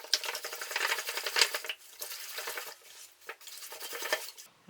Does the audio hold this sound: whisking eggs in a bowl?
yes